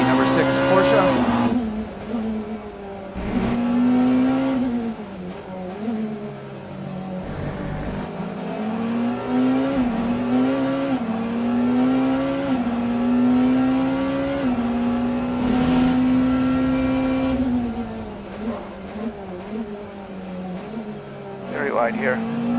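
Porsche race cars in the Le Mans Ultimate racing game at Algarve International Circuit scream through rising and falling engine revs across the clip, loud and close, with shifts and brief tire noise under a commentator's voice.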